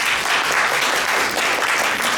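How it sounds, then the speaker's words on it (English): Brief burst of audience applause for a speaker at a talk on disability inclusion, a crowd clapping steadily and fairly loud from start to finish. "let's give a big applause to our speaker"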